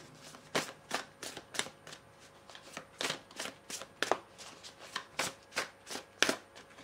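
Akasha oracle cards are shuffled by hand in a quiet room, making a series of soft, close riffling bursts in an uneven rhythm throughout.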